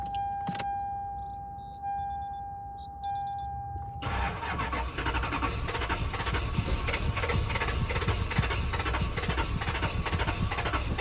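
A 1992 Lexus LS400 barn find, sitting unused for 12 years, cranks with a steady rhythmic starter churn that keeps going and never catches. It follows a dashboard warning chime with electronic beeps, and nobody speaks.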